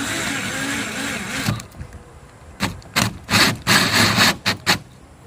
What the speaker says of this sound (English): I'm gonna cut the hole and then see if I got it in the right spot